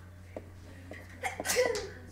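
One sharp sneeze bursts out at moderate distance after a few soft breaths and small sounds, over a faint low hum in a quiet room.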